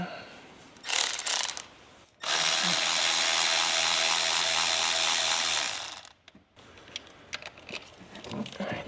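Ratchet with a 10 mm socket loosening bolts on a Ford 6.7 Powerstroke diesel engine, a few short clicks first, then a long, fast, steady ratcheting whir for about four seconds, followed by scattered clicks and taps.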